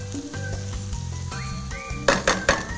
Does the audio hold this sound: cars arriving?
no